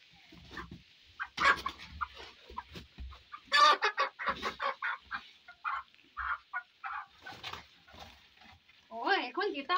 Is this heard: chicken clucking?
yes